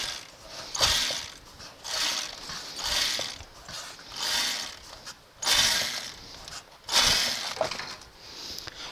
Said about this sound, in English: this motor, when you spin it, and that's not really spinning all that fast